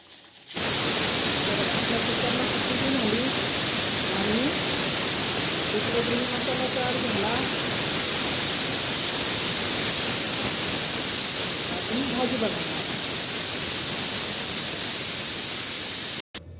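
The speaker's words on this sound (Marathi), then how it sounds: "आपल्या कुकरला शिट्टी होत आहे आता" A pressure cooker cooking chicken vents steam in a loud, sustained hiss that fills the whole span, with faint tonal whistling traces beneath before it cuts off abruptly at the end.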